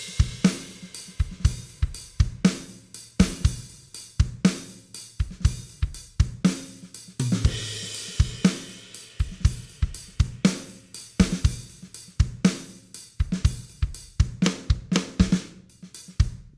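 A Logic Pro Drummer groove using the new kicks beat, with punchy kick and snare hits in a steady rhythmic pattern and crisp cymbal accents, played loud and alone throughout.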